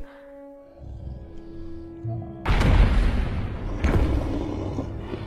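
An explosion set off by soldiers in a Kong monster film erupts as a sudden loud boom after a quiet, tonal stretch of score, then rolls into a sustained heavy rumble with another sharp burst a second later.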